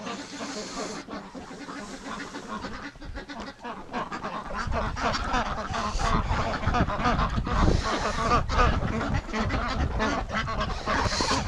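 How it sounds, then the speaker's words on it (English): Ducks at a barn quack and honk repeatedly in a busy, overlapping flock, with wind noise and occasional bits of talk mixed in. "Silly ducks, they're eating my barn."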